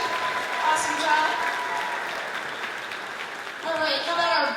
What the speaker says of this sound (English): How about a round of applause for our percussion section?